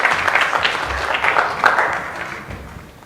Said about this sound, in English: Can you give them a round of applause, please, to encourage her?